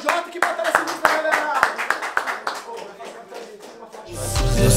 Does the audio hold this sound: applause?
yes